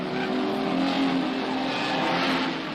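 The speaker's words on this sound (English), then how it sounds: "In the braking area, Bond pulls out to easily gather in Moffat and Seaton and takes the lead" Race cars at the 1970 Bathurst 1000 roar past continuously, a loud, steady engine drone with layered motors close by and no speech over it.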